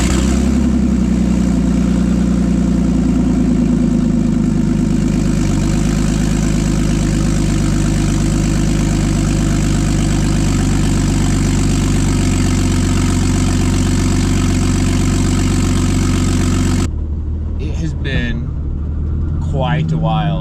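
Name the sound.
BMW E36 drift car engine starting and idling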